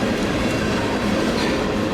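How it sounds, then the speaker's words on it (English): Union Pacific diesel mixed freight train rolling past close by, a loud steady rumble with wheel clatter filling the whole stretch, no voices. "Them guys over there with them trains going."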